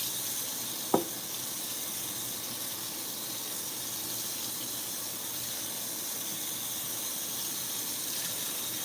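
Water running at a salon sink rinses conditioner out of hair, a steady close hiss throughout with one brief knock near the start.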